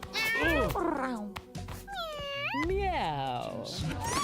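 Cartoonish cat meows from the video game Mewgenics, several rising and falling mews in quick succession, loud and close, with a voice also chiming in over the game sounds.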